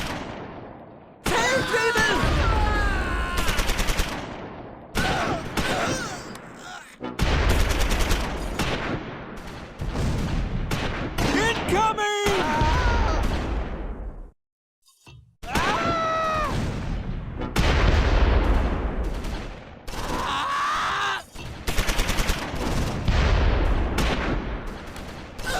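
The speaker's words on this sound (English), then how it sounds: "McDowell's rifle squad opens fire from the tower." Rifle squad firing from a tower in the WWII strategy game Close Combat 4, Battle of the Bulge at Esch-sur-Sûre: loud, sustained bursts of rifle and machine-gun fire with sharp reports, broken by short pauses and one brief silence.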